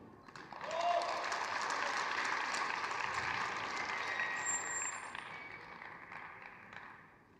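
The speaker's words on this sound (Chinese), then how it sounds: "全场给予了陈玉东掌声鼓励他" An arena crowd at a figure skating national championship applauds a skater, a dense, sustained wash of clapping that swells quickly, holds steady, then fades toward the end, heard at a distance with faint commentary underneath.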